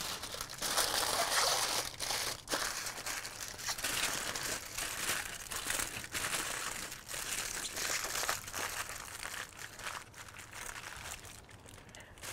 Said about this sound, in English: I want to wrap these tight, make sure that I don't pierce the foil with the bone